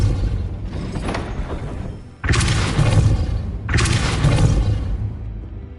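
Depulso force-push spell effects in Hogwarts Legacy, three loud booming bursts with heavy thuds and a whooshing rush, each lasting over a second, the first softer and the later two louder.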